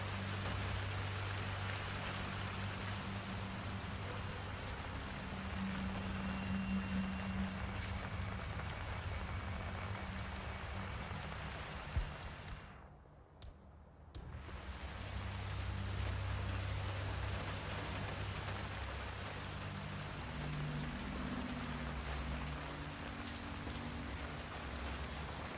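Steady rain pours in Hitman 3, a dense hiss of drops on surfaces with a low background hum, dipping almost to silence for a second midway before resuming at full strength.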